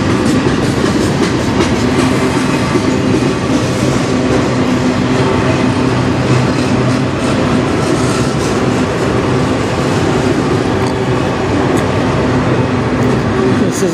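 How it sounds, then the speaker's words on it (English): A CN freight train passes on the Strathroy Subdivision in Sarnia, Ontario, in a steady, loud rumble with continuous rail clatter throughout. "This is the first train coming from the States since I've been here all day"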